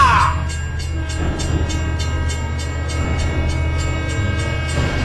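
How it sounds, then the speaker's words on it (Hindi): An approaching train in a GTA-style video game, a steady rumble with rhythmic clickety-clack of wheels on track, with a voice talking over it. "अबे सालों कुछ करो, ट्रेन आ रही है।"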